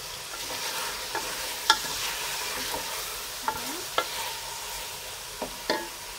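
A spoon stirring chicken with upo and malunggay in a sizzling cooking pot: steady frying hiss with a handful of scattered, sharp clinks and scrapes against the pot.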